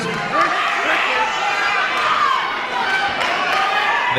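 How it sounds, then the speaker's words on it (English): A boxing crowd roars steadily through a hard finish to the sixth round of the Ryan Breese versus Eric Diamondstein fight, a dense wash of cheering and chatter that fills the space with no clear breaks. "The crowd is cheering hard in this finish to the 6th round"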